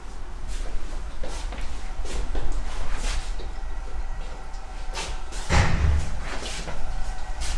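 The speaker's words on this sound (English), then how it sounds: "that's one of the doors closing and the windows being open" A door inside a rented apartment in Mexico slams shut with one loud, heavy thud over steady wind-like noise from open windows.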